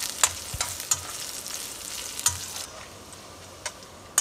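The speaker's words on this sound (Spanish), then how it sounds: "le agrego los chiles de árbol para que se frían también. Le muevo para que no se vayan a quemar los chiles" Dried chiles de árbol fry in a pan for a red salsa, with onion and garlic, giving a steady soft sizzle broken by scattered scraping clicks of stirring, close and fairly quiet, no voices.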